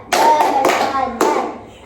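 Children in a classroom clap together in a short chant to show they are ready to learn. Three or four loud, close bursts of group clapping mix with young voices speaking in rhythm.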